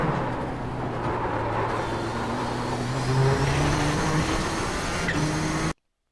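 A Nissan GTP ZX-T prototype race car in iRacing at Sebring held at full throttle, a sustained droning engine note with rising gear pitch, steady and loud with no talk, cutting off abruptly at the end.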